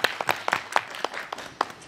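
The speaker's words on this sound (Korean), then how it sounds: "이분들께도 다시 한번 큰 박수 한 번만 부탁드리겠습니다." Concert audience applauding a vocal ensemble's session musicians: a steady patter of many hands clapping, fairly close and sustained, with a few louder individual claps standing out and no talk.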